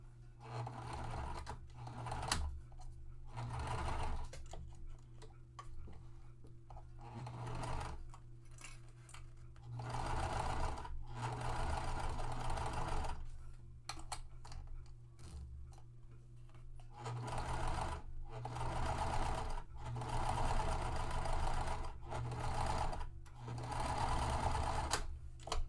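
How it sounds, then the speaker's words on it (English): A sewing machine running in long continuous bursts while top stitching water resistant canvas with a Teflon foot at the largest stitch length, steady whirring with brief pauses between runs, close and alone. "All right, so now that is top stitch."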